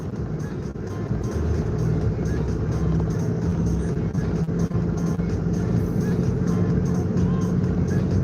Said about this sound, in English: just warming up my tires